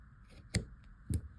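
Scissors snip coconut earring material, two crisp, close cuts about half a second apart in a quiet room.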